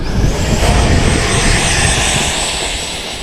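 A Freewing Vulcan RC jet takes off into a headwind with a loud, close engine roar and a rushing whine that holds strong, then eases slightly as it pulls away.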